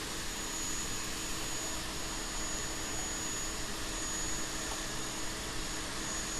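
A homemade grinder on a DIY linear slide with cam rollers runs steadily, giving a constant broadband whir and hiss without pauses or talk.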